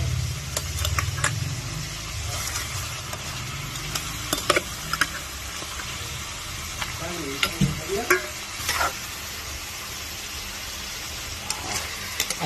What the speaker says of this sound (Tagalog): Haluin lang po yung isda para po maano yung sangkap.